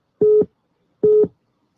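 Two identical short electronic phone tones ring out about a second apart, clean and loud against silence, as a call connects on a live call-in show.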